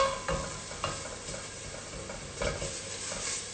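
Curry powder and blended seasoning sautéing in a pot give a quiet, low sizzle broken by a few soft stirring scrapes.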